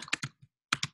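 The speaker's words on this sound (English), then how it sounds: "And I will type Sassy Uma" Typing on a computer keyboard at a desk: a quick burst of three keystrokes, a brief pause, then three more close, crisp clicks.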